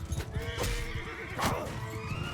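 A horse whinnies loudly amid the din of a siege battle in Mount & Blade: Bannerlord, with a long shrill neigh breaking over continuous battle noise and a second cry near the middle.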